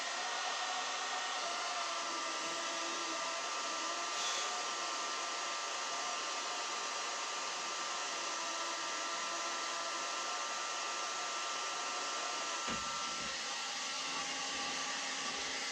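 A heat gun blows steadily while softening PVC pipe, a continuous loud fan-and-heater whir with a slight shift in tone near the end, no voices.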